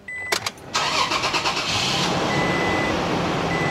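A 2nd-generation Toyota Tacoma truck engine cranks briefly, then catches and settles into a steady, loud idle close by, with a faint beeping tone running through part of it.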